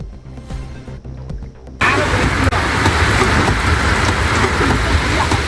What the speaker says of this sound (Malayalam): ഇന്ന് രാവിലെ മുതൽ മാങ്കുളം മേഖലയിൽ ശക്തമായ മഴയാണ് പെയ്തത്